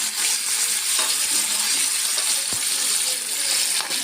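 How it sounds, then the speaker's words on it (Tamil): Three bananas frying in ghee in a kadai, a dense, steady close sizzle with occasional light clinks and stirring taps, no voices. "இங்கே ஒரு கடாயில் நெய் ஊற்றிருக்கு. அதில் 3 பனானா,"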